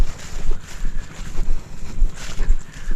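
A diesel engine on a rice farm chugs steadily with a low, throbbing rumble, loud and close, while wind buffets the microphone.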